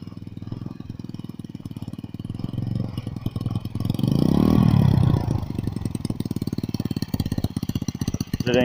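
A rebuilt 100cc mini chopper motorcycle engine runs nearby with a steady, rapid chugging idle that swells into a louder rev midway before settling back to a throbbing putter.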